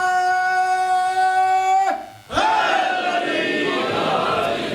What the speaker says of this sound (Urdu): پنج نعرے پنجتنی سوا لاکھ نعرے